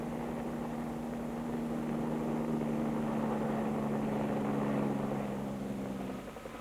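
A 1940 Sikorsky VS-300 helicopter in flight gives a steady, droning engine and rotor hum with a sustained low tone, constant and moderately distant before dropping off near the end.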